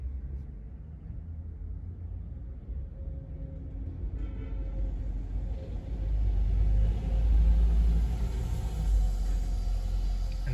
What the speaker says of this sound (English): bus number 68